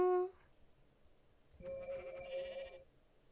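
Sheep bleating in the Minecraft video game: a short, wavering, low-pitched in-game bleat is heard, then the game's ambience continues with no talking.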